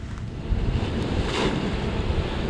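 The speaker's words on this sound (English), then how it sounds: "So that is the ocean" Ocean surf in Aruba washes in with a continuous, loud roar, close to the microphone, mixed with gusting wind noise and no voices.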